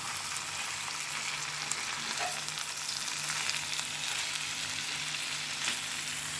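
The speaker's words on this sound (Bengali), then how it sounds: "বাঁধাকপি এগুলো দিয়ে ভালো করে কষিয়ে নিয়ে" Boiled cabbage and meat sizzle steadily while being stir-fried in a pan, a constant loud crackling hiss with occasional faint scrape accents and no talking.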